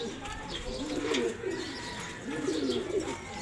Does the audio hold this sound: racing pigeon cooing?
yes